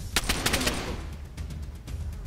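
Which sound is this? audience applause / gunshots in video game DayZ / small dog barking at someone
gunshots in video game DayZ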